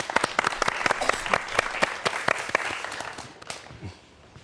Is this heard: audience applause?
yes